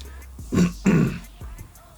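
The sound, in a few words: throat clearing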